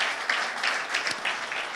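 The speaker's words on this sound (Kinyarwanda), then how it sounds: "Mureke dukomere Imana amashyi ku bwa Bishop" Brief congregation applause for a Bishop at a church gathering, a soft, steady patter of many hands clapping, heard fairly faintly over a short stretch.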